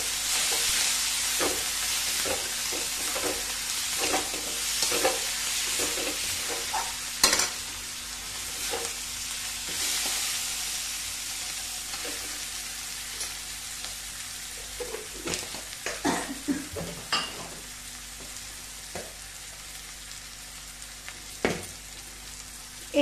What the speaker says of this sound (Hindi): हाई फ्लेम पे इसे कंटिन्यू चलाते रहना है जब तक ये पूरी तरह सॉफ्ट से ना हो जाए।